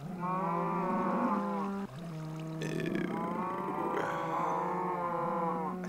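A Minecraft cow on a semi-automatic cow farm lets out loud, drawn-out moos, several in a row with a brief break midway, close and clear with no talk over them.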